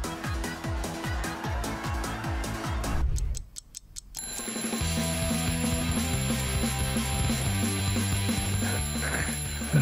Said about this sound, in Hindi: अलार्म को बंद करो एंडी, मैं बहरी हो जाऊंगी